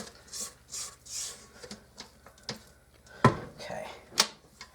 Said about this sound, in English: I'm going to scrape down the sides because I want that good and mixed in there.